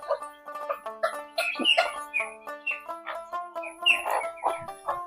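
Six small chicken chicks peep in quick, high, repeated chirps, several birds calling close together in a steady busy chatter.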